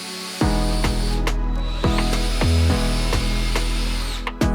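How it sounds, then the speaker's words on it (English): Power drill drives a bit into wood, a loud close-up motor whine that rises and drops in pitch through several trigger pulls and speed changes, with no talking. "I'm actually going to drill out with a drill bit and then put a screw through here"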